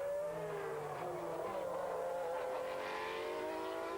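Jean Alesi's Ferrari Formula One car driven hard around a 4-kilometer track during 1993 European Grand Prix qualifying, engine screaming high and rising through gears, loud and continuous.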